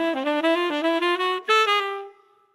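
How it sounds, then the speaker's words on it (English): A saxophone plays a quick, fluid lick from a blues tune, a single melodic line of short connected notes that ends on a held tone and fades out cleanly, with no other sounds. "the sax player on the album, played this amazing lick"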